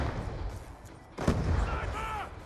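A concussion grenade bursts in Call of Duty Black Ops 2 with one muffled boom midway through, over steady gunfire and game noise.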